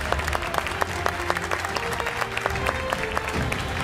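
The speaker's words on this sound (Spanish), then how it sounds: "Aplausos generales." The studio audience of the Argentine TV game show Los 8 escalones de los 3 millones gives general applause after a perfect round. Dense, loud, continuous clapping runs throughout, with sharp individual claps standing out and some musical tones underneath.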